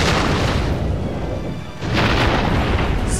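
Heavy booming shots strike a castle gate in the video game Infinite Undiscovery, two dense rumbling bursts separated by a short lull.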